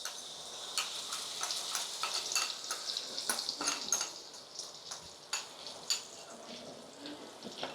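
Soaked spice paste fries in a pan with potatoes and onions, giving a steady hiss of sizzling oil broken by irregular sharp clicks and scrapes of a utensil stirring, close and continuous with no talking.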